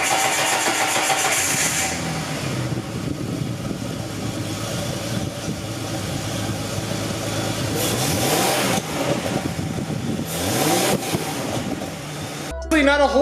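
A Mustang with a new exhaust cranks and fires up, then idles and blips with a loud rumbling drone and several revs, with muffled voices and handling noises around it.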